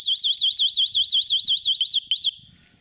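Anti-theft alarm on a Qiewa Q1 electric scooter blares outdoors, a loud, close, rapidly warbling siren tone that cycles steadily, breaks off briefly, resumes for a moment and then stops.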